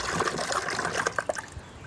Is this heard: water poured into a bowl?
yes